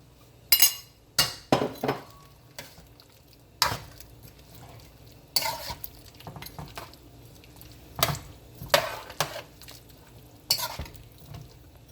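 Sweet pepper and onion fry in a pan for Jamaican-style sweet and sour pork, with sharp clinks and scrapes of a utensil stirring over a faint, low sizzle.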